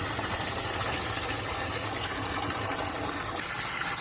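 Continuous rushing gush of water pumped into a goldfish pond, loud and close, steady with no pauses.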